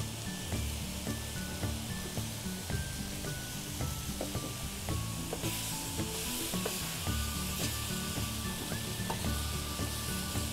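Ginger, garlic, chilies and a little salt cooking in a pan with no oil give a steady dry sizzle and hiss, broken by scraping and stirring clatter of a utensil against the pan.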